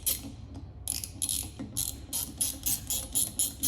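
A hand ratchet snugs a factory Jeep bolt on an ABS sensor bracket for a superduty axle, giving a series of close, crisp clicking bursts in an uneven rhythm.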